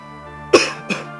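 Two sharp coughs, a stronger one then a second a moment later, close by over a steady low hum during a playthrough of Final Fantasy IV.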